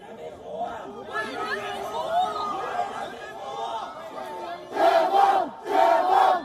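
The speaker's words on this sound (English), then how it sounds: "Lift COVID lockdown is what this crowd in China's far western Xinjiang region is chanting" A protest crowd in Xinjiang, China's far western region, chants against COVID lockdown, a dense mass of voices rising and falling throughout, swelling into two loud unified bursts near the end.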